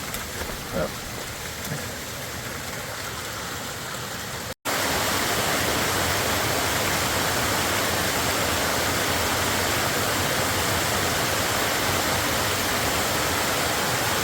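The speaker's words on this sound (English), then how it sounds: "we're going to have some waterfalls ahead" Steady, loud broadband roar of a waterfall on a mountain trail along the Appalachian Trail in New Hampshire, quieter and mixed with faint sounds at first, then a sudden jump to a dense, continuous rush after a brief cut.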